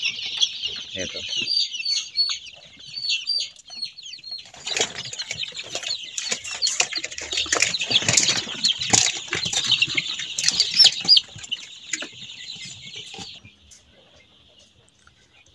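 Chickens at feeding time cluck and squawk continuously while wings flap in a loud flurry midway, close by on a farm, with a brief spoken word near the start.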